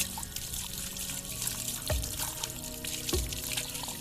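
Philodendron aroid roots and growing medium being rinsed clean by hand in water, a steady trickle and splash with a couple of sharper drips and sloshes, close and fairly quiet, no talking.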